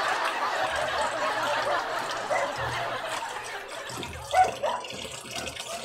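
Tap water runs steadily from a faucet in a continuous splashing wash, with a few louder bursts and faint background sounds near the end.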